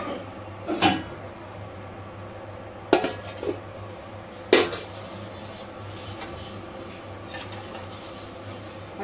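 Sattu being mixed with cumin powder, salt and lime in a bowl, heard as a few sharp clinks of a spoon against a dish separated by quiet stretches, with a low background hum.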